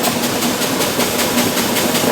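A grain bin paddle sweep running inside a bin, giving a loud, steady mechanical rumble and hum with faint rhythmic pulsing, close and continuous with no voices.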